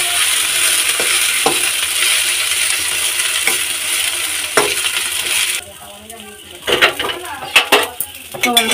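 Taro-leaf mash is stirred and fried in oil in a pot, giving a steady sizzle under repeated scraping and clinking of a utensil against metal, the frying hiss dropping away near the end as knocks grow sharper.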